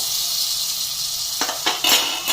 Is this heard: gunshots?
no